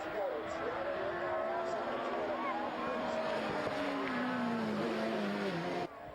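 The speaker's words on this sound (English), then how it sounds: "Now check this out for a massive crash." Toyota Corolla race car on a track: a steady, loud engine roar with shifting pitch as it passes, with wind noise and no clear impact.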